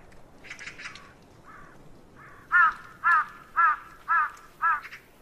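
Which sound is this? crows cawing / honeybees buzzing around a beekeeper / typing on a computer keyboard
crows cawing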